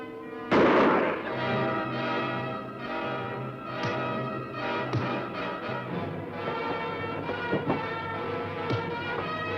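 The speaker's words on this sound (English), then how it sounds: "No, I will fire the first shot." One loud gunshot cracks out early and echoes, followed by a long ringing, bell-like tail and a few softer knocks and clanks fading away.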